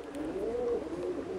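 A show-breed dove coos in a single steady, low murmuring call, close and fairly quiet, with no talking over it.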